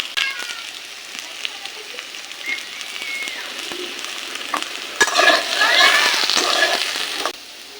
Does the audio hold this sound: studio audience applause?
no